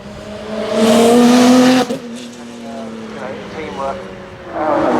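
A BMW X4M Competition at the Goodwood Festival of Speed blares past with a loud, rising exhaust howl that cuts off sharply, then a second revving burst follows, with crowd chatter and voices underneath.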